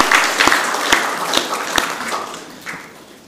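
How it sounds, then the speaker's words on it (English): A church congregation claps for the young people as they head off to Kids Church, a thinning applause with a few loud, close individual claps standing out before it fades away. "Let's give the young people a clap as they go to Kids Church."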